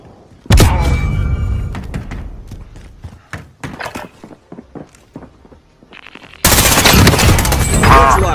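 Automatic and single gunfire from a Call of Duty Warzone match in an 1980s-style setting, loud bursts of rapid shots with sharp separate cracks between them, then a dense roaring volley at the end.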